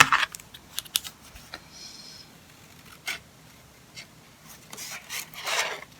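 A small rubber stamp being cut out for a card, heard as quiet, close scraping and rubbing strokes in irregular bursts with pauses of near silence between them, with no talking.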